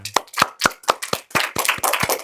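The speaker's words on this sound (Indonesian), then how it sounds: "Tepuk tangan untuk Rehan" Classroom applause for a student during a teaching session: a short burst of sharp, close hand claps, several people clapping in a quick, slightly uneven rhythm for about two seconds.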